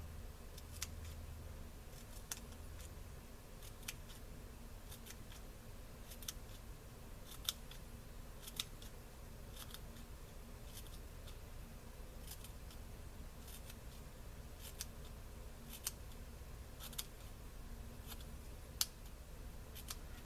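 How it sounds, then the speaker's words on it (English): Scissors snip washi tape into feather shapes, a steady series of small sharp clicks spread across the whole stretch, quiet and close, with no one talking over the cutting. "I'm going to start cutting till I get to the angle"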